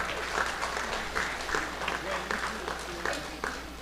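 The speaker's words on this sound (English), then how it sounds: "Please give a round of applause for all these folks." Audience applause for bingo and raffle winners at a family day event, steady clapping from a crowd that continues evenly throughout, with a low hum beneath and voices mixed in.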